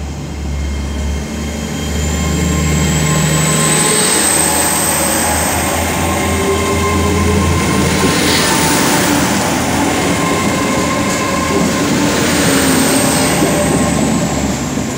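A class 800 passenger train departing Worcester Foregate Street station rumbles steadily with a low engine drone and broad mechanical noise, a faint high whine running above, continuous and fairly close throughout.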